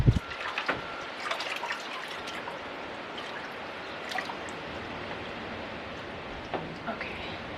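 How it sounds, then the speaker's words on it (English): A moose nose dunked in water to rinse it while cooking outdoors in Canada, with sloshing and trickling water, a splash at the start and scattered drips throughout. "I'm gonna just dunk this in here to kind of rinse it off"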